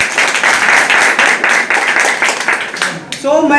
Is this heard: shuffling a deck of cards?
no